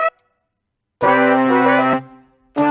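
Slowed halftime beat at 1.5 speed in half loop mode: a sustained, tonal chord-like chunk that starts abruptly, holds about a second, cuts off, then restarts, heard close and alone.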